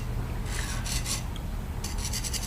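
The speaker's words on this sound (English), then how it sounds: "Went in there with some Scotch-Brite." A Scotch-Brite pad scrubbing the jaw slot of an Ash & Co. 8-inch 3-jaw lathe chuck, a soft, steady, close rasping rub with a few brighter strokes.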